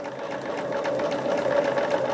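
A sewing machine stitching scrap quilt blocks runs in a continuous, fast, even mechanical hum and whir close by for the whole stretch, with no speech over it.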